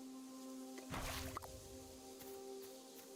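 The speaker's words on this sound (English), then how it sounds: "I would imagine the sound of water splashing or sploosh" A single short splash of water from the Bitcraft Online video game, a brief burst over a steady tonal game hum, followed by a faint drip.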